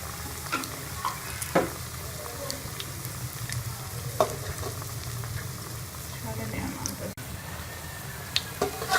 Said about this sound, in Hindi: इसको मीडियम फ्लेम पे फ्राई करना है